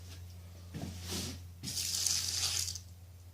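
A sample of beer wort is poured out into a sink during home brewing, with a short splash, then a longer steady pour that trails off, close and fairly quiet.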